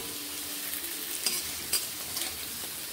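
Potatoes frying in a pan for a small-fish curry, a steady close sizzle with a few brief scraping stirs of a spatula, no talking.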